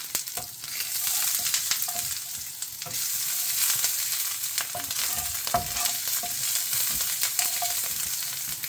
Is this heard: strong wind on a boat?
no